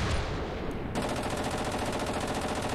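Coaxial machine gun on a light tank in Ravenfield, firing a rapid, steady burst of loud, evenly spaced shots that runs for most of the clip after a brief lead-in.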